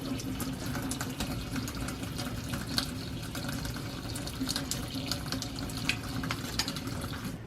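Steady running cold tap water splashes continuously into a sink while homemade butter is rinsed, with occasional brief clinks and drips breaking through the constant rush.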